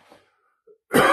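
A man gives a single sharp, loud cough after a near-silent pause, preceded by a faint breath.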